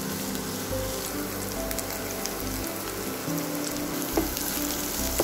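Onions frying with ginger garlic paste in a pan sizzle steadily and close, a dense continuous crackle with a few louder pops near the end, no voices.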